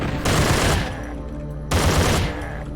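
Rapid weapon fire from Doom II, two loud sustained bursts with a pause between them, dense and continuous over an ongoing low game rumble.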